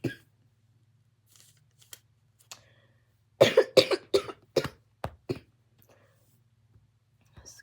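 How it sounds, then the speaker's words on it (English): A man reading aloud from the Gospel of John breaks into a cluster of coughs, several sharp dry bursts close together near the middle, with a few quieter isolated clicks and a faint low hum throughout. "I apologize, brothers and sisters, for my coughing."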